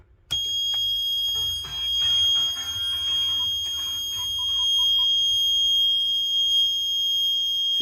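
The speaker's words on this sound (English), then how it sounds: "So you basically get a warning buzzer, and that red light illuminates." A steady electronic warning buzzer sounds continuously at a high pitch, loud and close, holding on without pause for several seconds.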